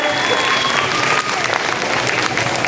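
Audience at a school Christmas concert applauds loudly and continuously, a thick wash of clapping close by, with scattered voices mixed in.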